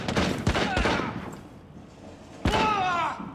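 Gunfire in Rainbow Six Siege on the Hereford Base map, with a few sharp shots in quick succession, then quiet, then another loud burst with ringing tails, near and sharp.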